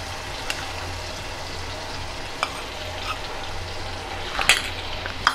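Maida flour being stirred into melted butter in a pan for white sauce pasta: a steady soft sizzle runs throughout, broken by a few sharp scrapes and clicks of the spoon against the pan, louder near the end.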